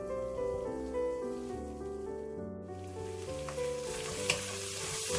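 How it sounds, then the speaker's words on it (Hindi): Spice masala frying in hot oil, a steady close sizzle running throughout under a soft background music bed, with a brief clink near the end. "इस मसाले को मैं तब तक भूनूंगी जब तक इसमें से तेल जो है वो अलग नहीं हो जाता।"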